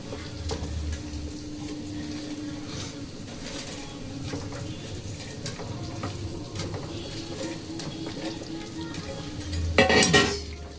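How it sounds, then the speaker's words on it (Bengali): Vegetable koftas dropped into boiling curry gravy for a home-cooked kofta curry, a steady close bubbling and sizzling simmer throughout, with a brief louder splash or clatter near the end. "ঝোল ফুটে গেছে দেখুন, এখন কিন্তু এটা আমি সব ছেড়ে দেবো এই ঝোলের মধ্যে"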